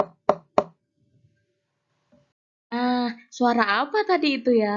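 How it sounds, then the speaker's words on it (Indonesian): Three sharp knocks rap on a door in quick succession, close and crisp, followed by silence and then a person speaking. "suara tadi itu adalah suara pintu yang diketuk"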